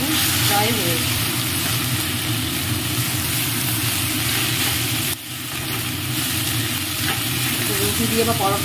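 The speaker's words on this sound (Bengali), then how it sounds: "এদিকে আমার বাঁধাকপিটাও ভাজা ভাজা হয়ে গেছে।" Shredded cabbage fries in a pan with a steady, dense sizzle that lasts throughout, with a brief stir midway and a low background hum.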